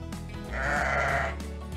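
A sheep bleats once, a single drawn-out wavering call heard close and alone against a faint background hum.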